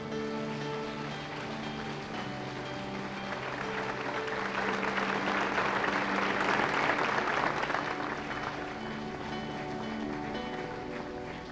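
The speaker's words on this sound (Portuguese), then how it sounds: "Aplauda ao nome do Senhor Jesus." A church congregation during a worship service applauds in the name of Jesus, a broad sustained roar of clapping that swells in the middle and carries on under lingering keyboard tones.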